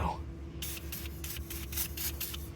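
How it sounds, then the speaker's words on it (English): Rapid bursts of aerosol spray on Chevy car parts hiss in a quick series of short pulses, close and fairly loud, after a brief quiet start. "So let's just spray that stuff down too."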